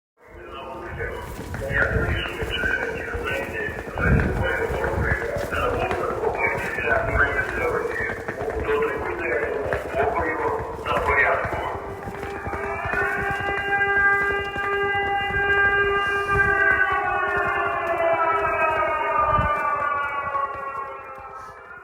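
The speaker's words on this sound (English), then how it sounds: "What you're hearing is an air raid siren and my trolley on the cobblestones in Lviv." A wailing air raid siren in Lviv, Ukraine rises and holds over the steady rattling clatter of a trolley's wheels rolling across cobblestones, close by and continuous.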